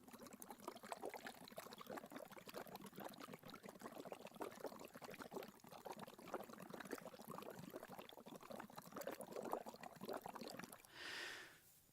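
Breath blown into a glass of murky phenolphthalein water, making a continuous bubbling, gurgling churn close up that stops abruptly just before the end, with no talking.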